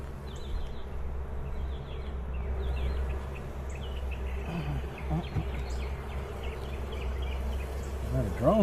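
Honey bees drone in a dense, continuous buzz close by while a hive is opened and inspected on the Mississippi coast, with faint bird calls behind.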